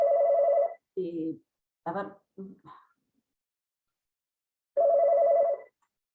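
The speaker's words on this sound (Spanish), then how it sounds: "justo sonó el teléfono" A telephone rings loudly in two separate bursts of electronic trilling during a lecture on international labor contracts, with brief speech from the lecturer in the gap between the rings.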